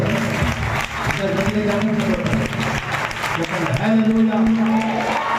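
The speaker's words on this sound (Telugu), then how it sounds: "ఒకసారి అందరూ చప్పట్లు కొట్టారు" A church congregation claps together during a worship service, a short burst of dense applause heard under and alongside a preacher's amplified voice and some musical tones.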